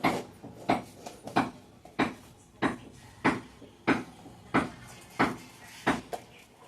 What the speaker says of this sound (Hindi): ये आवाज़ पीछे से आ रही है क्योंकि हमारे पीछे मकान बन रहा है